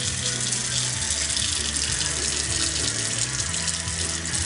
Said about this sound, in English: I'm going to run some just regular cold tap water here.